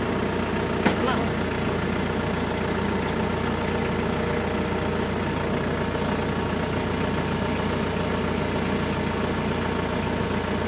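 A TYM tractor engine idles with a steady low diesel rumble, close and unchanging throughout, with one brief click near the start.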